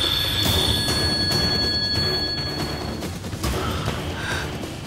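A steady electronic phone ring repeats over a dense, rumbling background, moderately loud throughout with no voices.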